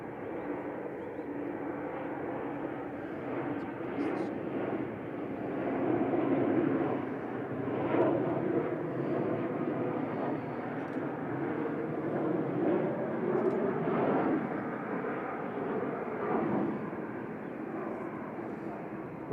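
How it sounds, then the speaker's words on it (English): A KLM Embraer E190 airliner arriving from Amsterdam at Manchester Airport, a sustained low jet rumble swelling and fading over twenty seconds at moderate distance. "Coming in from Amsterdam, flight 1037 E190"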